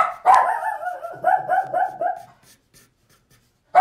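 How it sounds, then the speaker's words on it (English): Dogs bark indoors at a home art studio as a delivery arrives at the front door: a rapid, close burst of several barks, then a quiet stretch, then one more sharp bark at the end. "The dogs are letting us know."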